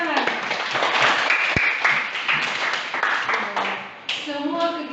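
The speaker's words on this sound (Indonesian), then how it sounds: "Tepuk tangan" Students clapping in a classroom after their group work is graded, a lively patter of hands mixed with a teacher's voice and children's chatter throughout.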